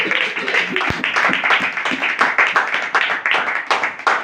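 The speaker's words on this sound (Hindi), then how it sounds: "मरियम के लिए एक बार जोरदार तालियां।" A church congregation claps loudly for a woman named Mary during a sermon. The clapping is close and vigorous, in a fairly regular rhythm for a few seconds.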